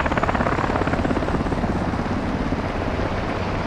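A helicopter in the video game Modern Warfare 2 gives a loud, close rotor thump, a fast steady pulsing chop over a heavy low rumble that continues throughout without speech.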